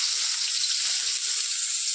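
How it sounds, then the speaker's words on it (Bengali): Sliced onion fries in hot oil in a home kitchen, a steady bright sizzle that hisses loud and close without pause, with no talking over it. "এই দেখ পেঁয়াজ তেলে দিলাম।"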